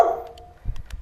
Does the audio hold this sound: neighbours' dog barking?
yes